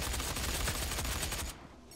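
Rapid automatic gunfire from a battle rifle in a Doom multiplayer match, a dense, loud burst of shots lasting about a second and a half before cutting off abruptly.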